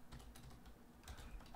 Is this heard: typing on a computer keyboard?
yes